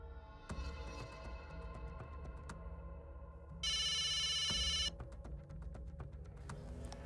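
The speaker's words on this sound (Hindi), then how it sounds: "फिर से फोन।" A telephone rings in a single burst of about a second, clear and electronic, over a constant low background hum and scattered clicks in an indoor setting; no one speaks.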